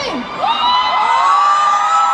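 A crowd at a fan concert in Hong Kong cheers and shouts loudly, with high whoops and yells rising together in a sustained, close roar.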